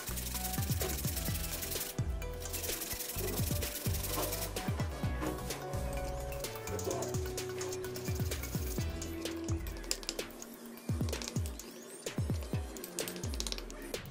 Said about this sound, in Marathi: गूळ किसून टाकणार आहोत